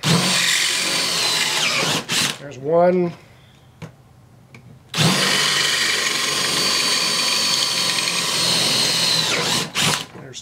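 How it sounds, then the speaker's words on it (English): A power drill bores holes through a scrap piece of wood during a Chevy C10 manual-to-power window regulator conversion, running in two long, loud bursts separated by a brief spoken remark and a quiet pause. "So now we've drilled out our 4 holes that we're going to need for this."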